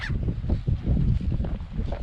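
On the Annapurna Circuit in Nepal, on the way to Tilicho Base Camp, geese flying overhead honk repeatedly in a noisy, overlapping chorus, a steady stream of calls with no talking.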